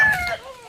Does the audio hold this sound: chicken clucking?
yes